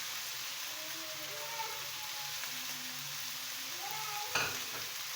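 Chicken and vegetables fry in a pan with a constant close sizzle and light stirring, and one brief clatter near the end. Nobody speaks.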